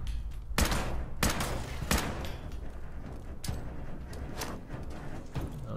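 Gunfire in Fallout 76, aimed at an enemy using a laser: several sharp, separate shots spaced a second or so apart over a steady low rumble, moderately loud.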